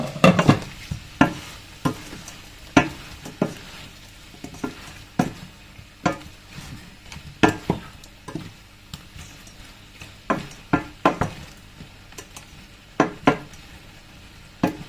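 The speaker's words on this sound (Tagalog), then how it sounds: "Haluin natin." Food frying in a pan on a home stove is stirred, with repeated sharp scrapes and clinks of the utensil over a steady low sizzle, close up and without talk.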